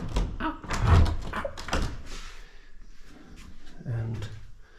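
An old door inside a chateau is handled, giving a series of wooden thunks, knocks and rattles, close and moderately loud, with quieter handling noise between the impacts.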